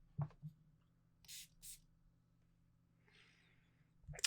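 Dior Sauvage perfume bottle giving two short quiet hissing sprays, close and soft amid faint handling taps in an otherwise hushed room.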